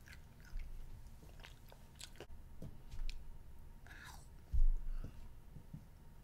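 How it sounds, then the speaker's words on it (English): Close, quiet crunching and chewing of hard chocolate Easter candy bugs with faces and little wings, a few sharp bites and crunches with soft mouth sounds between them and no talking. "Those little bugs are really hard to chew."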